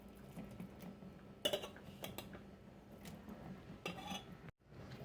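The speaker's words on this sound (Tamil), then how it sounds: "இப்போ இதில் சாதத்தை போட்டு நம்ம கிளறிக்கலாம்" Cooked rice being stirred into a tomato mixture in a pan for tomato rice: quiet scraping and shuffling broken by a few sharp clinks of utensil on pan, faint and close, with no voices.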